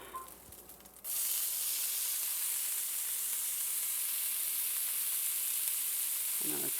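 Onions hit a hot pan for pork chops destined for a slow cooker, bursting into a loud, steady sizzle after a second of quieter kitchen noise, with continuous broadband frying that holds strong to the end.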